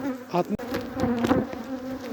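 Dense, steady buzzing of many honey bees around a multi-storey hive, close and continuous, with a few brief knocks or handling noises.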